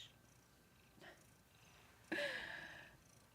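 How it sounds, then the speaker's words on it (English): A house cat purring softly close by, a quiet low rumble with a brief faint sound partway through and a louder burst near the end. "Little kitty purrs for the morning time."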